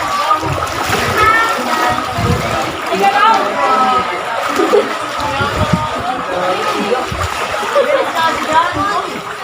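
People wading through muddy floodwater, with steady sloshing and splashing close by, while voices talk and call out over the water.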